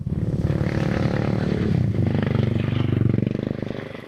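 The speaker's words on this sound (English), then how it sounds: "There are so many motorcycle taxis here." Several motorcycle taxis run along a cold mountain road near Mt. Pulag in Luzon, their engines droning steadily and close for the whole stretch with a little clatter and no talk.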